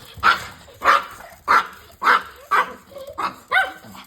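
Seven evenly spaced dog barks, close and fairly loud, repeating about every half second with brief pauses between them.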